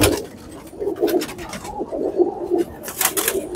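A female pigeon coos in repeated low, soft calls close by, one after another in an uneven rhythm against faint background noise, with no talking.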